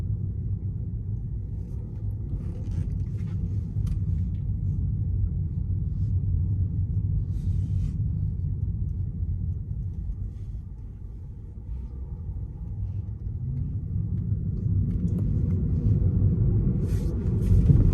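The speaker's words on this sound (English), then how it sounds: "So I'm going to do a U-turn here without backing up" A Tesla sweeping through a slow U-turn without backing up, heard from inside the cabin as a steady low road rumble and tire noise for the whole stretch, with no talking.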